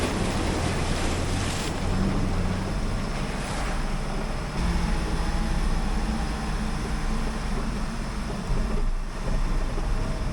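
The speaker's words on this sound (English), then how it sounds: "It's always a fun start to the day when you get to trudge through a flowing water crossing of this width" An off-road vehicle trudges through a wide flowing water crossing, a continuous broadband rush of churning water and splashing with low engine rumble underneath and wind buffeting the microphone.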